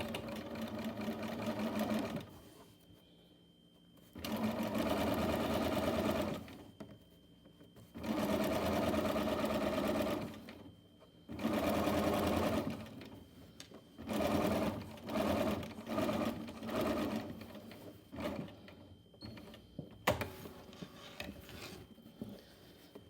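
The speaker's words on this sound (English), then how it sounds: "I am now going to stitch it in place." Sewing machine stitching a fly front zipper seam, running in several close bursts of steady mechanical whirring separated by short pauses, the later bursts shorter and choppier.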